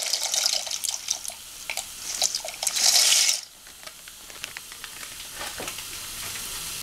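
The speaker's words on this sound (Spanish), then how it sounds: "Ya estando caliente el agua, entonces vamos a incorporar la pasta." Pasta goes into a pot of hot water, giving a busy splashing, rattling and bubbling sound that swells into a louder rush for a moment before settling into quieter simmering.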